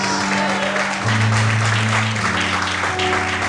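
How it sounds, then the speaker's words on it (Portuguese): A church congregation applauding during a Sunday morning service, steady clapping under sustained music and voices throughout. "Aplaude e exalte a Ele nessa manhã, aleluia"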